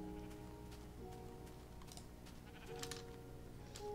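Sheep bleat in a video game, with several short, tonal bleats against a steady background hum, under faint clicking of keyboard typing.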